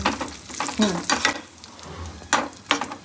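Nuts such as almonds, cashews, raisins and pistachios frying in a kadai for barley payasam, bursts of sizzling and stirring scrapes with faint speech in between.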